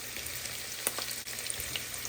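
A steady, close sizzle of chopped onion, ginger and garlic frying in hot oil in a pan, a continuous hiss with a few small pops and no voices.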